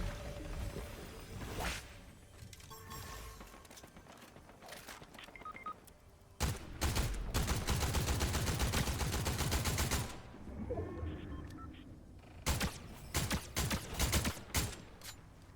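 Gun firing in a video game, with scattered single shots early on, then a sustained burst of rapid automatic fire lasting a few seconds, followed by more short bursts, moderately loud with some mechanical clicks between.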